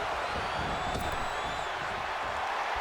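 A crowd cheers in the WWE 2K24 wrestling video game, a dense continuous roar of arena noise with a faint whistle-like tone rising over it.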